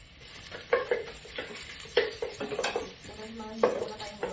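Ginger stirred and sautéed in a pan, light sizzling under repeated sharp scrapes and clacks of a utensil against the pan in an uneven rhythm, close by, with no talk.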